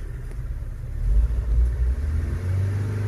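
An old Honda car engine rumbles and surges unevenly as it is revved but fails to take throttle, with a close, low, continuous drone.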